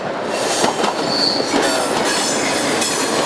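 Train passing on a railway line, a loud close rumbling rush with rhythmic wheel clatter and a brief high wheel squeal, heard alone without talk.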